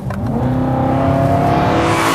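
A BMW M3 Frozen Edition engine revs loudly and close, rising steadily in pitch as it builds through a sustained, aggressive roar with no pauses.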